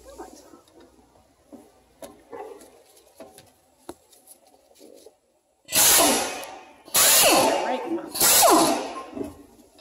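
Power tool removing brake caliper bracket bolts on a 2010 Ford Escape, three loud bursts of about a second each in the latter half, following quieter clicks and handling noises.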